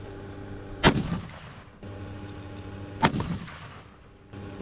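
Two loud rifle shots fire fast, hard-hitting bullets, spaced a couple of seconds apart, each a sharp crack trailing into a short rumble over steady background noise.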